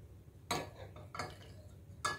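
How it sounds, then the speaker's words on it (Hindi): Three sharp clinks of a spoon or utensil against a vessel, spaced about 0.7 seconds apart, as watermelon drink ingredients are mixed; close and crisp, over faint background hiss, with no talk. "अब सारी सामग्री को अच्छे से मिक्स कर लेते हैं।"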